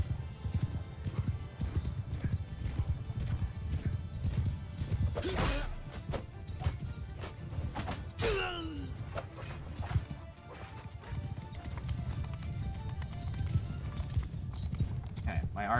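Horses gallop in the medieval combat game Mount and Blade II: Bannerlord, with a steady, fast clip-clop of hooves throughout and a sharp whinny partway through, all at close range.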